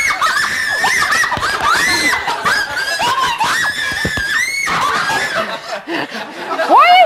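Girls scream at length in a house, shrill rising and falling shrieks mixed with giggles and chuckles, loud and close, with talking in between.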